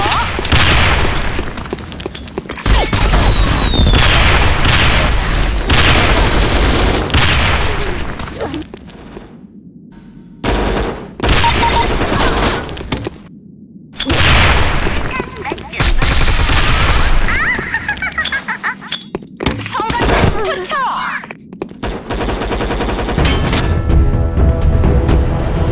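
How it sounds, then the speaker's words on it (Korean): A grenade throw and heavy gunfire in the online shooter Sudden Attack: loud sustained bursts of automatic fire and booming blasts, broken by a few brief silent gaps, with game sounds layered throughout. "수류탄 한번 던져볼게요"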